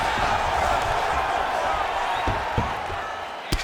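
Continuous crowd roar fills the arena in the UFC 5 video game during Khabib Nurmagomedov vs Islam Makhachev, a steady broadband wash of voices with a few faint thuds and a sharp slap-like hit near the end.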